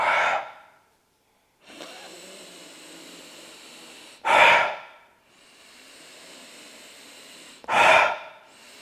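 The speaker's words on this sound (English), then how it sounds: "When people are breathing like this," A person breathes in slow, deliberate bursts, demonstrating a breathing pattern during a yoga meditation teaching: three strong, close breaths spaced evenly apart, with quieter airy sounds between them and no talking.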